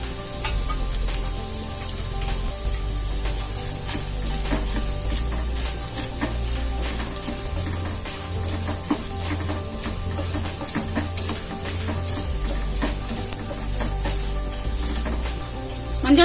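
Cashew nuts and peanuts frying in hot oil for Iyengar-style puliyodharai, a steady close sizzle with faint stirring clicks, continuous and even throughout with no voices.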